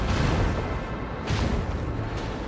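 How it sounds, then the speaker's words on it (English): A macro cannon volley fires in the space combat of Rogue Trader. Heavy booming blasts roll in quick succession, with a deep rumble throughout and a second surge of impacts about halfway through. "Macro cannon, volley!"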